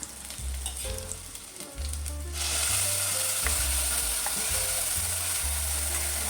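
Loud, steady sizzling as chutney is added to roasted ingredients in a pan for a traditional okra curry, growing brighter partway through, with occasional stirring clinks over a low background hum; no one speaks.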